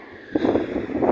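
Strong gusting wind buffets a handheld microphone outdoors during pigeon flying, a low rumbling roar that swells suddenly partway through and keeps surging loud and close.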